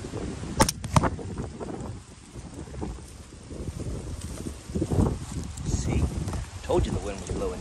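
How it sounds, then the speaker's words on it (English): Wind gusting dead in across a baseball field, a broadband rushing roar with mic buffeting that swells and fades throughout, continuous and fairly loud. "I told you the wind was blowing dead in."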